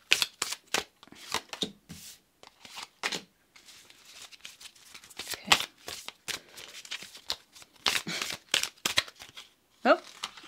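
Tarot cards being shuffled by hand in quick, crisp bursts of riffling and sliding, close and fairly quiet, with short pauses between.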